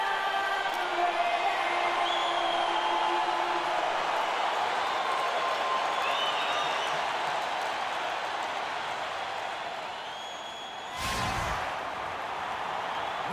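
Steady arena crowd noise in an NBA 2K16 video game, a Bulls versus Knicks game at the United Center, holding a continuous broad roar with a brief surge near the end.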